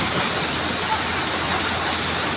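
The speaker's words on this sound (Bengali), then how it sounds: "খুব শিলাবৃষ্টি হইতেছে এখন আরারে" A steady, dense hiss of hail and heavy precipitation pours down without a break, close and loud, with no voices.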